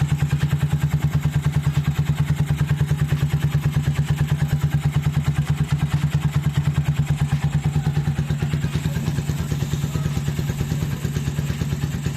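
A motorcycle engine fitted with a cheap 650-peso carburetor from Shopee idles steadily and close up, a fast even put-put with slight mechanical clatter running unbroken throughout, no voices.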